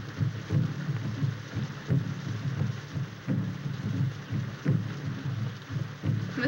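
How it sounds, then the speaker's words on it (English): Steady rain pours through a night scene in the 1932 film, with low rumbling thunder rolling underneath and soft rhythmic thuds recurring every second or so, continuous and moderately loud with no talking. "This rain and those drums."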